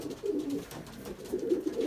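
A Belgian racing pigeon coos close by in low, soft, repeated rolling phrases, heard on its own.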